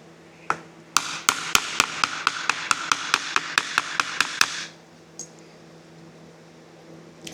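A metal drift is struck repeatedly on the flat face of an anvil while setting hardware in leather, producing about twenty sharp, rapid, evenly paced metallic taps close by, then quiet.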